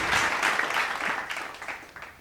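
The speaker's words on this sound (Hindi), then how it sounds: "मेरा आप सभी लोगों से अनुरोध है कि थोड़ी देर तालियां जरूर" An audience claps steadily at the opening of the 11th Kaushambi Lok Rang Mahotsav folk cultural festival, dense continuous applause from a crowd, gradually thinning toward the end.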